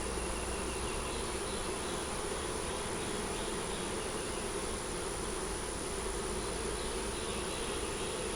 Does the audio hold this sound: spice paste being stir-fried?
no